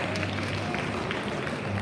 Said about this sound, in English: Let's put our hands together for Mihika and applaud for her efforts.